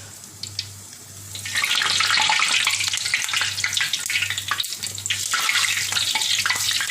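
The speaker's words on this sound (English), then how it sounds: "See how beautifully it is getting fried." Loud, steady sizzling and crackling of potato chips deep frying in hot oil, starting softer and swelling after a second, with a low hum underneath.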